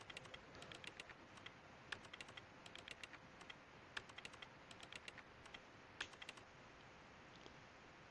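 Rapid computer keyboard typing in a video game, a quick irregular patter of light key clicks heard close and fairly quiet over a soft background hum.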